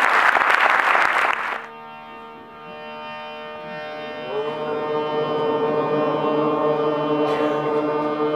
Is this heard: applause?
yes